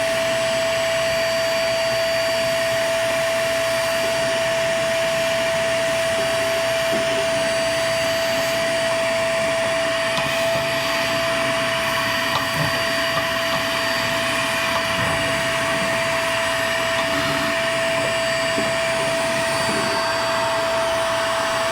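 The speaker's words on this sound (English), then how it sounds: "run the vacuum" A vacuum cleaner runs continuously while cleaning out dust inside a Vogelzang VG5790 wood pellet stove, a loud steady motor whine with a strong high tone, unbroken for the whole stretch.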